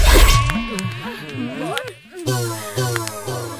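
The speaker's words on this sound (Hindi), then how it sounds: "शहरी खून के देहाती मच्छर स्वाद ले तारन सन।" Mosquitoes in a village setting buzz close and loud, their thin whine swooping up and down in pitch and pulsing in and out over several seconds, with no clear talk.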